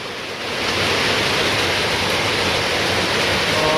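Heavy rainstorm with wind as a storm rolls in, a dense, loud roar of downpour that swells within the first second and then holds steady.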